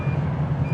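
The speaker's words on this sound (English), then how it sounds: "I got all kind of alarms and stuff beeping" Truck alarms sounding in a rig with failed batteries that won't start, a rapid pulsing electronic beep repeating evenly and loudly up close, with a faint steady high tone above it and no speech.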